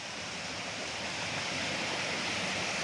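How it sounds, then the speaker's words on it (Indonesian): Steady, loud roar of a natural waterfall tumbling over rocks, a dense continuous rush of water filling the whole clip with no voices. "di air terjun ini"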